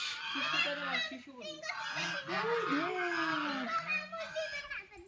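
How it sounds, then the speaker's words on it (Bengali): Geese at a temple grounds honking in loud, nasal, overlapping calls close by, with children's voices and other people talking mixed in. "রাজহাঁস।"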